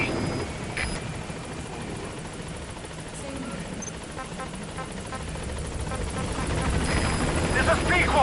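A helicopter arriving at a landing zone in the video game Metal Gear Solid V gives a continuous rotor and engine drone that grows gradually louder as it approaches, with faint voice chatter in the mix.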